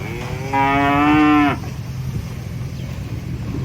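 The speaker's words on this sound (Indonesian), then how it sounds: "Sapinya nangis, guys" One long, loud moo from a giant, agitated white cow nearby, lasting about a second, followed by quiet outdoor background noise.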